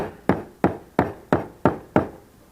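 Six sharp metallic knocks from the corner of a hammer on parts of an Atwood heater, at a steady, even pace, each ringing briefly before the next strike, close and clear with no talking.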